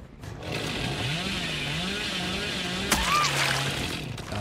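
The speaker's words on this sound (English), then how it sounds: "He just wields the chainsaw so well." Hillbilly's chainsaw revving in the video game Dead by Daylight, a steady buzzing motor drone with wavering pitch, heard close and continuous with game noise layered over it.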